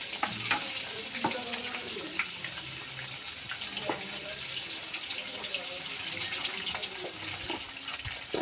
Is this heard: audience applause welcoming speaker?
no